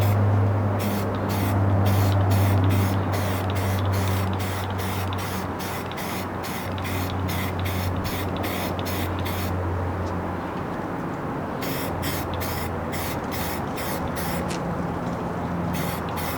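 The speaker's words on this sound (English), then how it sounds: "then I'm going to throw a layer of primer on there" Primer sprays from a rattle can onto a C5 Corvette front bumper being repaired, in a steady run of short hissing bursts separated by brief pauses, with a low hum underneath the whole time.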